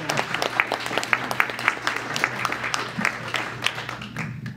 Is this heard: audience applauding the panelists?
yes